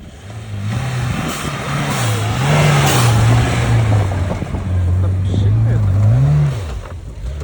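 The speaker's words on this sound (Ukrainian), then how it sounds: "Ой, стартанула Ніва." A Lada Niva engine catches and revs outdoors at an off-road gathering, its drone rising and falling through several throttle blips, fairly close, with people talking around it.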